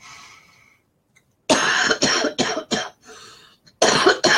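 A run of harsh, close coughs comes in quick bursts, pausing briefly before another loud cough, with no talking.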